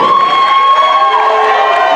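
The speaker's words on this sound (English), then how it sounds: "I'll clap your hand for a brand new nurse." A church congregation cheers and shouts loudly for a newly qualified nurse, a dense, sustained roar of voices that fills the whole two seconds, with little distinct clapping.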